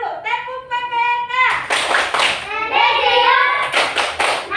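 A school class claps through the PPK clapping routine in rhythmic bursts of hand claps, mixed with a chanted children's voice and a teacher's singsong calls over and between the claps.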